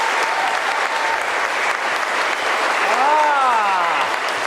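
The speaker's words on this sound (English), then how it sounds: "if you guys give him a round of applause, he can come on here" Middle school students give a round of applause as a guest is welcomed, a broad, sustained crowd clapping at full volume, with a sweeping tonal sound rising over it near the end.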